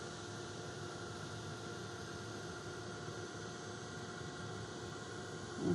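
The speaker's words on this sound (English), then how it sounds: "Now, I am just going to heat set over here a little bit more." Steady, close hum of a heat gun held over a watercolour art journal page, a constant droning whoosh that continues without a break and ends in a small rise.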